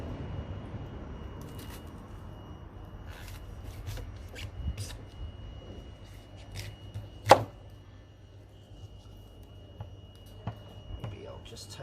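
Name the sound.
knife slicing food on a board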